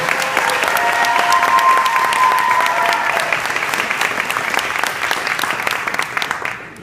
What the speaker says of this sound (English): please a round of applause to the 6 parents in front of you